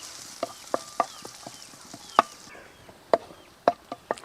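Chopped small onions sautéing in a pan for sweet chattipathiri: a soft background sizzle broken by sharp, irregular scrapes and clicks of a spatula against the pan, close and without speech.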